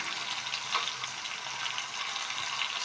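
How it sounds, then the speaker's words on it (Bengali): Boal fish pieces frying in a pan make a soft, even sizzle with faint bubbling, quiet and close, for a few seconds. "আর তার জন্য ভালোভাবে আমি ভাজা করে নিচ্ছি বোয়াল মাছের পিসগুলো।"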